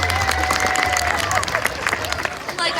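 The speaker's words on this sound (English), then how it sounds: "let's give them a big round of applause and welcome them back." Spectators at a California sea lion show applaud and cheer as the animals return to their stage, a loud, sustained clapping mixed with crowd noise and some voices.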